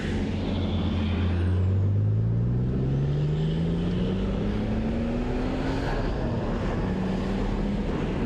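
A BMW Z3 M Coupe's S52 straight-six pulls hard under acceleration, its loud engine note climbing steadily in pitch through one long gear before a brief drop, with steady wind noise throughout.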